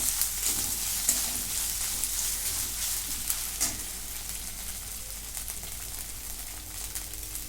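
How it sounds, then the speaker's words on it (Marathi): Onions and ginger-garlic paste fry in a pan with a steady, close sizzle that crackles evenly and never lets up, with no voices over it. "कांदा चांगला ब्राऊन होईपर्यंत भाजून नाही आता आलं लसूणची पेस्ट पण जरा परतून देते"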